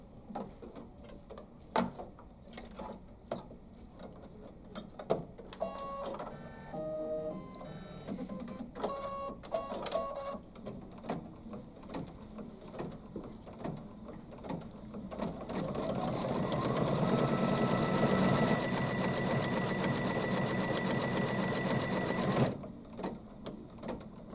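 An embroidery machine stitches a golden yellow satin stitch with quick rhythmic ticking, then settles into a louder, dense whirring run before stopping abruptly. It is close and steady, and no one talks.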